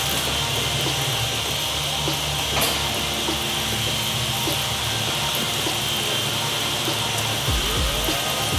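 Water sprayed onto a car's painted panels in a steady rain-like hiss, continuous and close throughout, with a brief low rumbling swell near the end.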